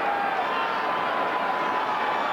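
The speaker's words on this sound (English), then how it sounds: "Now the crowd's coming alive here." Steady roar of a football stadium crowd at a 1982 NFL game between the New York Giants and Washington Redskins, a dense continuous wash of cheering voices filling the stand without clear breaks.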